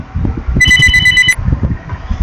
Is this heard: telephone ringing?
yes